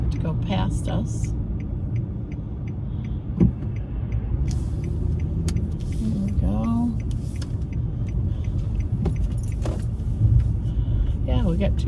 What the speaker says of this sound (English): We gotta wait for this endless amount of traffic to go past us.